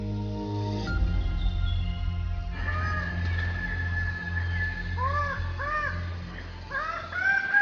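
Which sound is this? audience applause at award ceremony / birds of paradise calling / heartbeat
birds of paradise calling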